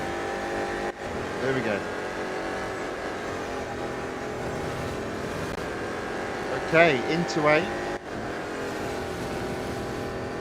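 BMW M Hybrid V8 race car engine droning steadily in Real Racing 3, a constant buzzing whine with brief gear-change dips, while a player talks over it.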